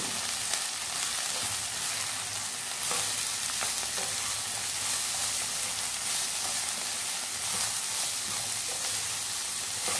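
Cabbage being stirred and fried in a hot pan over a high flame for chicken fried rice, a steady close sizzle with scraping stir strokes throughout, no voices.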